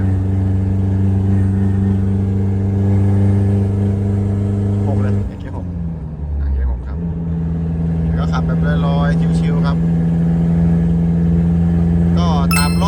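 A 1.9 turbo pickup engine pulls in fifth gear, a steady loud mid-pitched drone with a brief dip near the middle before resuming, heard from inside the cab while someone talks over it.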